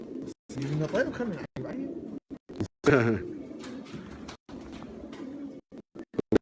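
Pigeons coo with low throaty calls through most of the stretch, close by and mixed with other bird calls, while someone talks over them in Arabic.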